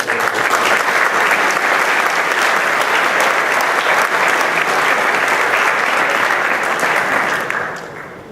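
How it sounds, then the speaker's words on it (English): Dense, loud applause from a ceremony audience at the 2013 AFSA awards, a steady wash of many hands that carries on for about eight seconds before tapering off at the end. "I think they all deserve a round of applause"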